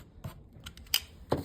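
Scissors trimming fabric during quilt piecing, a few short close snips with small pauses between the cuts.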